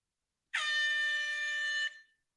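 A boat-style air horn gives one loud, sustained blast of about a second and a half, a bright steady tone that cuts off sharply and stands alone with no talk.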